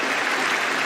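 A cricket crowd in Birmingham gives a standing ovation at an England versus Pakistan one-day international, a dense, steady wash of clapping that fills the whole moment without a break.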